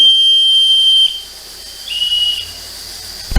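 A miniature steam engine's small whistle gives a high, piercing toot, stops, then sounds again briefly with a hissy edge, with no voices.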